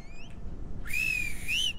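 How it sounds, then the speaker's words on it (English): A player whistles to call a horse in the survival game Ylands, giving two clear, high whistles close up, a short one and then a longer sustained one with a rising-falling end, over steady background noise. "I just whistled for him"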